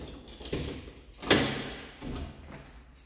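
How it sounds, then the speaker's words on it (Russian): Doors in an apartment building corridor are being closed, with a few thuds and latch clicks at about half-second to one-second intervals and a louder shut near the middle. The sounds are close and moderately quiet, with no talking. "Закроем двери."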